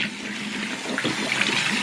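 Tap water running into a bathroom sink while a toothbrush is rinsed, a steady close splashing stream with small surges of gurgle and spatter near the end.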